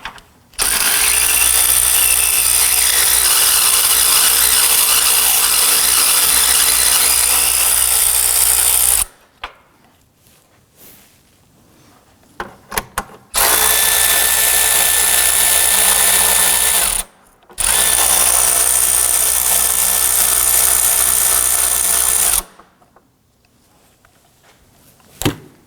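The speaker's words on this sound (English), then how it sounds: "Using a 10mm socket, loosen the nuts" A power tool with a 10mm socket loosening the J-bolt nuts on a 2005-2009 Subaru Legacy during a variable valve timing solenoid replacement, loud and close, running in three long sustained bursts separated by short quiet gaps with faint clicks.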